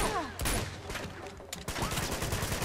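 Bursts of gunfire crackle through a firefight in the video game Uncharted 2 Among Thieves in Nepal, rapid overlapping shots and impacts filling the short stretch loudly.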